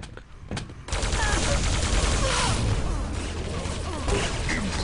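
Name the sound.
shotgun fire in the video game Quake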